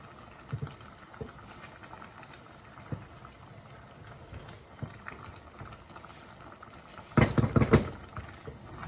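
Channa dal being stirred in a pot, a soft bubbling simmer throughout with a few faint utensil taps, then a louder burst of spoon scraping and thick liquid sloshing near the end.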